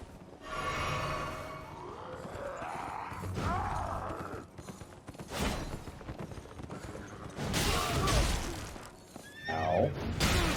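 A horse in the Elden Ring video game neighs and whinnies loudly several times, layered over mechanical creaks, ratcheting and clip-clopping hooves in a busy game soundscape, with no talking.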